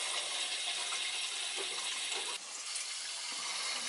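Water rushes steadily through the pipes of a hydronic heating system as old fluid is flushed out before glycol antifreeze goes in, a continuous broadband hiss with a brief dip partway through.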